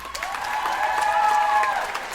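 An audience at a comedy show clapping in a brief scattered burst of applause, moderately loud, with a held tonal sound running underneath.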